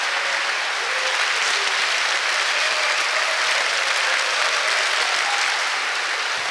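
A concert hall audience at a Korea University concert applauds a crossover symphony orchestra, with loud, dense clapping from a large crowd sustained evenly throughout and no talking.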